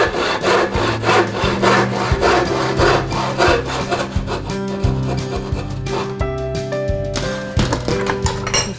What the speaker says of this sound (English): cut your straight cut with your handsaw